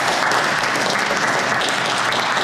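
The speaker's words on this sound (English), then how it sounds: "they love, like everybody does, a really good round of applause" Dense, sustained clapping from an audience at a talk on motivating environmentally concerned people, loud and continuous throughout.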